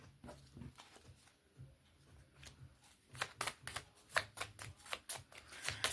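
Astrology cards for a card reading are shuffled by hand, soft riffling flicks at first, then a quicker run of crisp snapping shuffles, close and fairly quiet.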